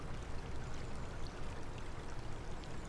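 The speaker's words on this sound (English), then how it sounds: "I hear water. Must be these pipes." Steady rushing water flows continuously through pipes, a dense hiss without breaks, in the video game American Truck Simulator.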